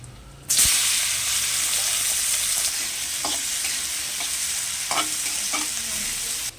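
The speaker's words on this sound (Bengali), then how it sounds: "ল্যাটা মাছের জন্য পেঁয়াজটাকে ভেজে নিচ্ছি" Onions sizzle loudly in a hot pan with nigella seeds for a lata fish curry, a bright steady hiss that starts abruptly, with occasional spoon knocks and scrapes against the pan.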